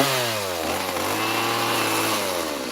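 A chainsaw carves into wood to shape a carved figure's chin, its engine buzzing loud and close and shifting pitch as the blade bites, continuous throughout.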